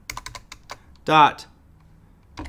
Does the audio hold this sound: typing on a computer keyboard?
yes